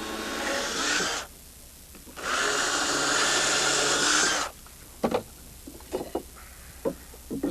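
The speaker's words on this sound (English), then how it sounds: "Now for the ends of these deck boards, I am drilling them just to make sure that they don't split out." A power drill bores into the ends of wooden deck boards in two sustained whirring bursts, each a couple of seconds long, followed by a few short knocks and handling sounds.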